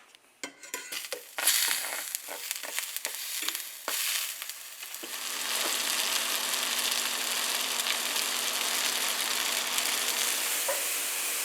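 Fresh loins and onions go into a hot pan: first a burst of clattering handling and stirring, then a loud, steady, close sizzle that holds evenly to the end.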